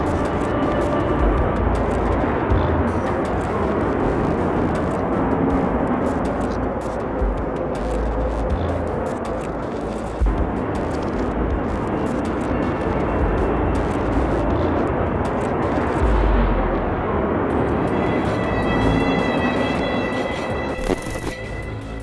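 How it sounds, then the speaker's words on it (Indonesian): A continuous, broad fighter jet engine roar aboard the Russian aircraft carrier Admiral Kuznetsov rumbles steadily throughout, loud and sustained, with a faint high whine emerging toward the end. "Suara deru mesin pesawat tempur menjadi simfoni kekuatan dan keberanian."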